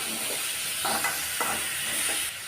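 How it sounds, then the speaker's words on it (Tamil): Onions and tomatoes sizzle and crackle steadily in a hot pan, with a few soft scraping stirs, close by and continuous, no voices. "இது எல்லாத்தையும் சேர்த்து நல்லா வதக்கி விட்டுறலாம்"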